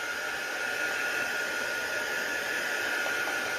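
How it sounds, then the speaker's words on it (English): Heat tool blowing hot air to dry ink on a handmade Christmas card, a steady, loud, unbroken whooshing hiss from start to finish. "Let's give it a good dry now with the heat tool."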